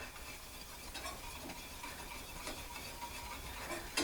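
A whisk scrapes steadily through a flour roux in a pan for white cheddar queso, making a soft continuous rubbing hiss with faint ticks against the pan.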